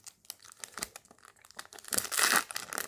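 Crinkly foil tearing and crumpling as One Piece card booster packs are opened, scattered crackles building to a louder, denser rip near the end, close to the listener with no voices.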